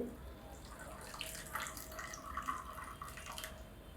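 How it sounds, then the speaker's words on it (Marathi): Water pouring into a pressure cooker of cooked pav bhaji vegetables, a faint, steady splashing trickle with light drips, heard close and quiet with no talking. "थोडं पाणी हे ओतून काढते म्हणजे बारीक चांगलं हटले जातं ते"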